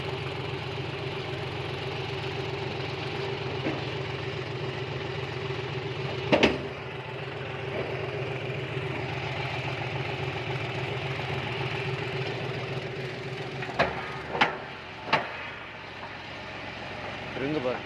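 A John Deere 5105 tractor fitted with a groundnut cultivator idles on farmland, its diesel engine a steady, close, low rumbling hum with a few sharp knocks cutting in.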